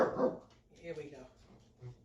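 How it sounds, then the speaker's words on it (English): A dog gives a short, sharp bark at the start, followed by a few softer yips and whimpers, fairly close, with a person talking quietly indoors. "I know what you're barking at"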